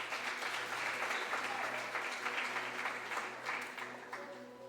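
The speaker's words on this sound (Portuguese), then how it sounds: "Vamos aplaudir o Bruno também" A church congregation at a Thursday service applauds a man named Bruno, a steady wash of many hands clapping, moderately distant and faint, tapering slightly at the end.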